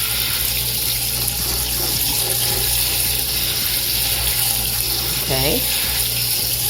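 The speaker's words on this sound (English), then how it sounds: "I typically will rinse them off really good" Soaked walnuts rinsed under a running kitchen tap, a steady loud rush of water filling the whole stretch, with a brief spoken word near the end.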